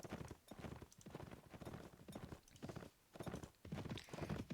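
Horse hooves clip-clopping in a steady trotting rhythm while riding in Mount and Blade Warband, close and clear with no talk.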